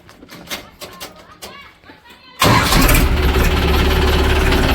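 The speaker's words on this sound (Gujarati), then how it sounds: "ફટાફટ ટ્રેક્ટર સ્ટાર્ટ કર્યું" A tractor engine cranks and catches abruptly partway through, then runs loud and steady; voices and children are heard before it starts.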